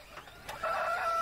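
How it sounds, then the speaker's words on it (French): Chickens cluck on a farm in a video game, a short burst of fowl calls that swells from faint to steady over a little more than a second, with no talking. "En fait, voilà, les poules sont ici."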